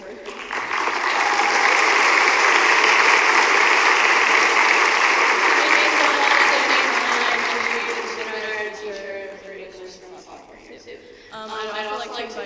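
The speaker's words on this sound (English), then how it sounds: "Get to clap for her." An audience claps for a speech coach at a 2019 Glendale High School oratorical event. The applause is full and loud at first, then thins and fades after about eight seconds, with a voice emerging near the end.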